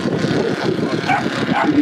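A model aircraft engine at full power on a flight line, a fairly loud, sustained buzzing drone with some wind buffeting and a voice speaking over it.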